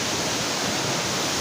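Waterfall near Abbottabad pouring into a deep pool, a loud, steady broadband roar of falling water filling the whole moment without a break.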